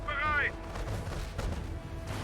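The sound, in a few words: gunfire in Company of Heroes video game battle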